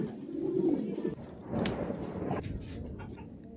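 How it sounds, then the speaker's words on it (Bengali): Pigeons coo in soft, low repeated calls at a pigeon farm near a market, with brief higher chirps mixed in, moderately close over a steady outdoor background murmur. "আজকে কিছু কবুতর দেখাবো আপনাদের"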